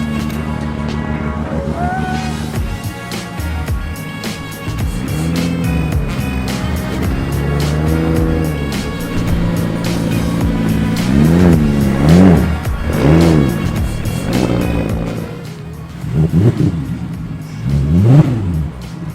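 A Ferrari engine revs repeatedly and loudly nearby, rising and falling in pitch over several throttle blips, with a deep sustained roar underneath and no talk.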